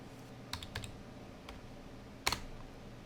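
Scattered keystrokes on a computer keyboard, including the Tab key, sound in a quiet room. There are a few soft clicks early on, then one sharper, louder press near the end.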